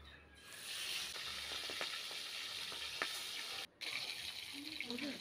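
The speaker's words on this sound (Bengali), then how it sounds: "মাছগুলো একে একে দিয়ে ভেজে নেব।" Fish pieces sizzle steadily in hot oil in a wok over high heat, a continuous frying hiss with small crackles and one brief break, no talking.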